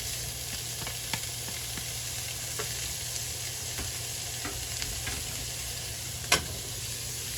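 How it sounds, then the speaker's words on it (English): Beef sizzles steadily in a hot pan for stuffed tomatoes with garlic, a constant broadband hiss broken by occasional clicks of a utensil stirring, one sharper knock near the end, with no voices. "We're going to return our beef back to the pan."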